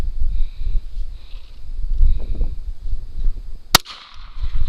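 A single sharp rifle shot cracks out close by during a hog hunt in the outdoors, standing alone against low rumbling background noise and followed by a brief ringing tail.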